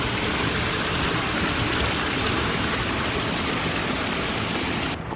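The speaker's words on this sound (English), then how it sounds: "it's just started raining" Steady rain falling outdoors by a canal at a narrowboat lock in January, a continuous broadband hiss that stays loud and even and then cuts off abruptly at the very end.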